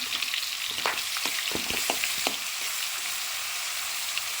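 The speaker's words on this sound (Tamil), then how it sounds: "வெந்தயம் பொறிஞ்சோடனே நாம் எடுத்து வச்சுருக்க வெங்காயத்தை அதில் போட்டுக்கலாம்" Onions dropped into hot oil with fenugreek seeds in a pan for a spicy Tamil curry, a loud steady sizzle that never lets up, with a few sharp stirring scrapes and clicks in the middle.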